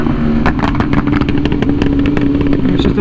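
A custom 2022 BMW S1000RR sportbike engine revs loudly and close by in rapid repeated bursts of throttle over a constant idle growl.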